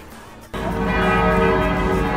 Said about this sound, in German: kaum sind wir in Bamberg, leuchten gleich die Glocken für uns